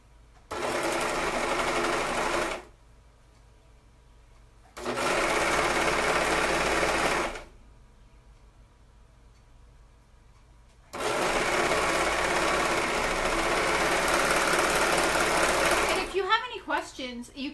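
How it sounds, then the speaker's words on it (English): A sewing machine stitches a sundress seam in three bursts, a loud steady whirring drone for two to six seconds at a time, separated by quiet pauses, with a short clatter at the end. "Let me sew this one up."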